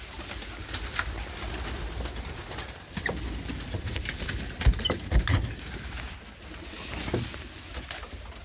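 Pigeons in a loft give soft, repeated coos with scattered wing flaps and light patter, all close by and moderate in level, with no talk over them.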